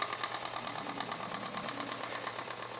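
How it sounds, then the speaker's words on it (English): A Burnac Vulcan steam engine runs steadily at slow speed with an exhaust choke, giving a continuous, even mechanical chugging with a regular fine pulse and slight leaking hiss, close and alone without talk. "I think it's going to keep running at that slow speed."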